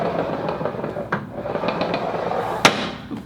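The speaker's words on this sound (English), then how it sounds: "there's a little bit more of like a choppy sound," Hydrow Wave rowing machine seat sliding with a choppy, clipped sound: steady mid-level broadband noise broken by several short clicks and one sharper knock near the end, with no voices.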